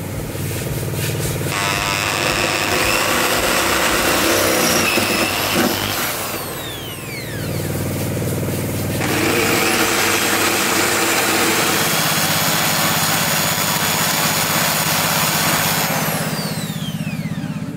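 A power drill with a metal bit bores through metal while fitting a three-point front strut bar, whining loudly and steadily in two long runs separated by a brief pause as the motor dips.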